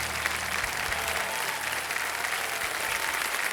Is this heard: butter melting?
no